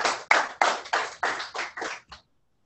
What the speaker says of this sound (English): So we'll give them one more round of applause.